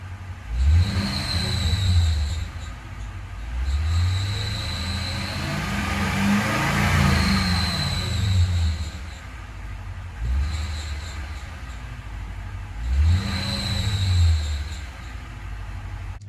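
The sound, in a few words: serpentine belt squeak on Toyota Tundra 5.7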